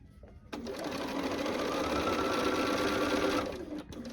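A sewing machine stitches a quilt block seam in a steady, rapid mechanical whir lasting about three seconds, with quieter room sound before and after.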